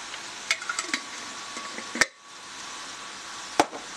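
Spaghetti with miracle noodles being stirred in a pan, with a few sharp utensil clicks and scrapes over a soft steady sizzle, one loud knock near the middle and another toward the end.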